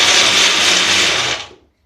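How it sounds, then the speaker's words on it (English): A blender whirs loudly as it blends tomatoes, a dense high motor whine that runs steadily for over a second, then spins down and cuts off. "Now I'm going to blend the tomatoes"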